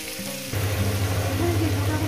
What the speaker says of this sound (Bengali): এটা আমি মিনিট 4 ধরে 4-5 মিনিট ধরে ভেজে নেব।